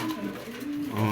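A pair of Royal Teddy pigeons coo in low, steady rolling tones, close by and continuous for a moment with no talk over them.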